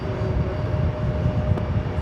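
A Boeing 787 Dreamliner taking off from runway 13 right at JFK on a windy day gives a steady, loud low engine roar with broadband rumble, continuous throughout.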